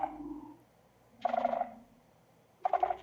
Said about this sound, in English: That's the sound of the Warden's tentacles.